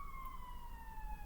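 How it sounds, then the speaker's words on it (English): A steady wailing emergency siren, ambulance or police, sounds faintly from outside at a distance, a sustained tone sliding slowly downward against a low background rumble. "ambulance or police siren, some kind of siren going off."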